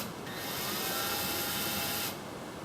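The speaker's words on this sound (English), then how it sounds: "I just want to drill this little guy out right here" A power drill bores out a small rivet, a loud steady whine for about two seconds before the bit stops, close up with no talking.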